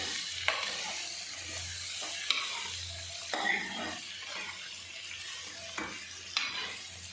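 Small bitter gourds and onions fry in a pan, a steady sizzle with the scrape and knock of a stirring spoon breaking through every second or two, with no voices.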